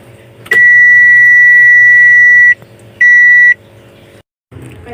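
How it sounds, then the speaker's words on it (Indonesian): A car's open-door warning alarm beeping inside a manual-transmission car, a long sustained electronic tone followed by a shorter second tone, loud and close, then quiet. "alarm berbunyi."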